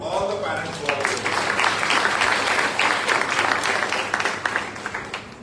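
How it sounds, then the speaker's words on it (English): Loud, sustained applause from an audience honouring parents at a college launch ceremony for ASM Next-Gen in 2025, with dense clapping filling the whole stretch and swelling slightly near the middle. "please give a big round of applause to all the parents who are here"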